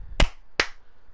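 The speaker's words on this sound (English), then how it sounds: "Clap for synchronicity." Two sharp, loud hand claps made to sync audio before an NBA 2K19 gameplay recording, spaced about 0.4 seconds apart, each cracking alone and decaying quickly, with near silence around them.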